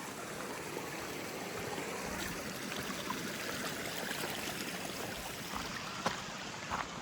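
Steady, even rush of a mountain stream swollen with snow melt along the Pacific Crest Trail near the Sisters, a continuous close wash of water with faint splashes and no talking.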